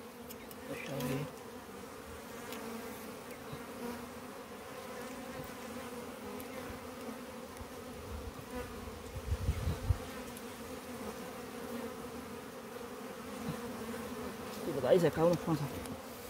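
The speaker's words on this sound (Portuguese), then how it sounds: "É a abelha." Italian honey bees hum in a continuous, steady drone at a hive full of honey in March, with occasional louder passes near the microphone and people talking briefly.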